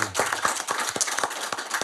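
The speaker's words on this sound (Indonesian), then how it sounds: "Tepuk tangan sekali lagi." Audience applause on an Indonesian talk show, heard as distinct, fairly close claps in a loose rhythm, a handful of hands rather than a large crowd, over a couple of seconds.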